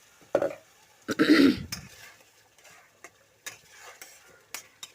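Water added to frying masala paste for coriander chicken and stirred, heard as a short burst of sizzling followed by sporadic clacks of a spoon against the pan, close and otherwise quiet.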